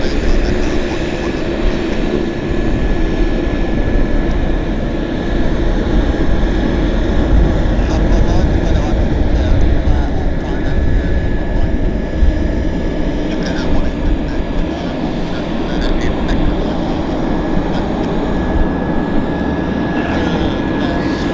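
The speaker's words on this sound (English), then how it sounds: "Here's our Beech 1900 taxiing out right in front of us." Beech 1900 turboprop taxiing at Vancouver airport, a loud steady engine roar and whine with a sustained tone, continuous and close, with airport background and some talk.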